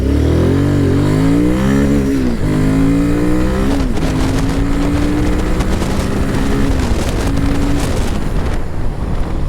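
A Royal Enfield Himalayan 450 motorcycle accelerates hard from a standstill toward 100, its loud engine climbing through several gear changes under heavy wind noise.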